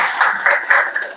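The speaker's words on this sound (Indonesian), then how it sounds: "Tepuk tangan dulu buat Amel ya." Participants in a nurse anesthesia teaching session clap for a classmate, a short run of thin, soft, rhythmic claps that fades near the end.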